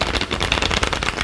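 Matte tarot cards are shuffled by hand in a dense burst of rapid riffling and flapping, close and fairly loud, with no voices.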